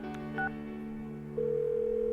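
A phone call is dialed in the video game Persona 4 Golden: a brief pair of keypad tones, then a steady electronic ringing tone that holds to the end.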